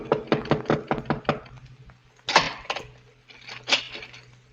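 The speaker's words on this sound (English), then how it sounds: "A few minutes before midnight, the knock came." A radio drama door knock: a quick series of sharp, close raps on wood, then a pause and a few more heavier knocks, with no voices.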